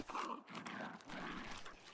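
Bulb dog creature from the game ARK Aberration, making soft dog-like whimpers and low growly panting sounds in short bursts, fairly quiet and close.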